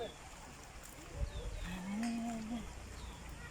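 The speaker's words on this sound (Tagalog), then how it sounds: "Ayun yung kalabaw-kalabaw." A carabao (water buffalo) on a fruit farm in Desaru, Johor Bahru, lets out a single long, low moo lasting about a second, heard at moderate distance over outdoor ambient noise.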